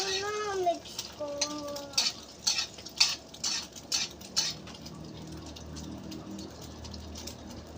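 A utensil stirs and mixes leftover rice and food in a pan, several sharp scraping clinks in an irregular rhythm, close and fairly quiet, with faint voice at the start.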